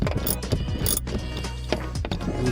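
Ratchet clicking as it loosens 10mm bolts in the dash of a 2014 Toyota Tundra, a close, steady run of rapid mechanical ticks with brief pauses.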